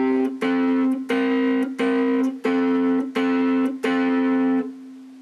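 Guitar playing a riff as a steady run of seven clipped, evenly spaced note stabs, close and clear, with no talk over it.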